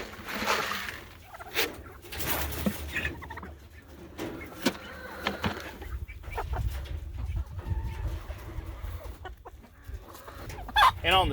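Chickens and turkeys on a farm cluck and gobble in bursts around birds scratching for knocked-out feed, fairly close with scattered calls and rustling throughout.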